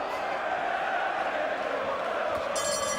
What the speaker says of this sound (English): The crowd singing for Kell Brook.